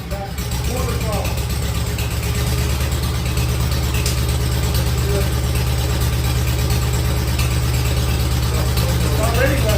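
1951 Farmall Cub tractor engine running steadily at quarter throttle, a loud, even, close chugging drone throughout with someone speaking over it.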